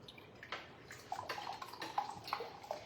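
Cold sparkling water pours into a bowl of tempura batter, a soft steady splashing with fizzy crackles and a few brief bright drips, fairly quiet and close with no talking.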